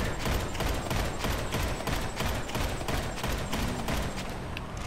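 Dense, continuous gunfire from a Grand Theft Auto V session, rapid overlapping shots forming a steady loud barrage throughout, with no talking.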